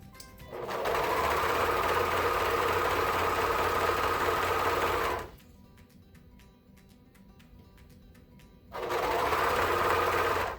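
A sewing machine stitches stretched elastic onto a swimsuit, running in a loud, steady whir for about five seconds, pausing briefly with faint ticking, then starting up again.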